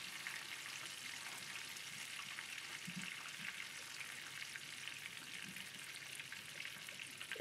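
Steady, faint sizzling and crackling of Scotch eggs frying in hot oil, continuous throughout with no voices.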